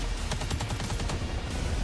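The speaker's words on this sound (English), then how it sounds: "There's melee. There's explosions. There's shotgunning" Gunfire in the video game Ferocious sounds as a rapid, dense burst of shots, loud and continuous, with booming low rumble and no voices.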